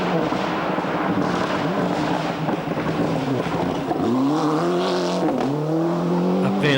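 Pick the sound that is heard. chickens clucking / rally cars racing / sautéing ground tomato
rally cars racing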